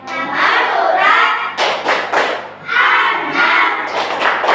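A group of children chants the Tepuk An-Nas clapping rhyme loudly and close by, voices rising and falling together, with rhythmic bursts of hand claps between phrases.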